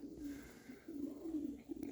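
Pigeons coo softly and repeatedly in low rhythmic phrases, fairly close but quiet, with a faint chirp near the end and no talking.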